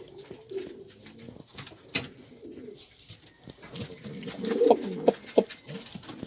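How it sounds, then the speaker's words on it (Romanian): Hunting pigeons cooing close by, soft throaty coos repeating and growing louder toward the end, over faint background noise. "dar sunt porumbei mișto tare"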